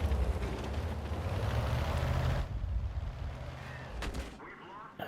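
Artillery fire in the tank game World of Tanks, a heavy booming rumble from incoming shells that lasts a few seconds and then cuts to quieter engine noise, with someone commentating over it.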